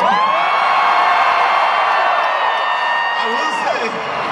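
Concert crowd cheering, whooping and yelling for Detroit at a show, a loud sustained roar of many voices with high shouts layered on top, filling the whole stretch without a break.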